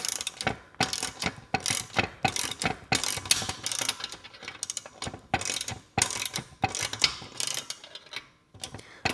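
Tightening a bolt while assembling a FEIERDUN 4-in-1 adjustable leg extension curl machine: quick bursts of close, clicking ratchet strokes repeating in an uneven rhythm, with brief pauses between.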